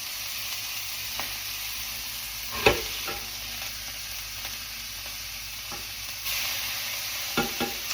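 Oklahoma onion burgers sizzle steadily in a small pan, with a sharp scrape and clatter as the patties are flipped partway through and a few more clicks near the end.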